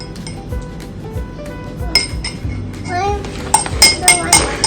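Spoon scooping avocado chia pudding from a glass, with several bright clinks against the glass scattered through, the last ones louder, while a voice babbles and speaks nearby.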